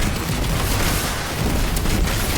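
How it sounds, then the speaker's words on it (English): Cluster bombs from an arc weapon in a video game go off in a dense, loud burst of booming blasts that runs the whole length without a break. "Its arc, it shoots cluster bombs, which will further add to the wave clear."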